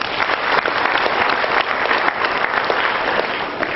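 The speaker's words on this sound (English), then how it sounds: "Round of applause," Audience applause at a renewable energy business event, steady and full for the whole stretch, a dense wash of many hands clapping at close range with no let-up.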